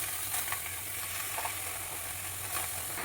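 Chopped spinach (palak) hits a dry pan with fresh coconut and no oil, giving a steady, soft sizzle with faint scraping and stirring clicks throughout, close and without talk.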